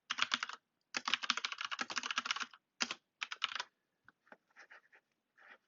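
Computer keyboard typing in quick bursts of keystrokes with short pauses, entering text into a Christmas party announcement, close and clear with no talking.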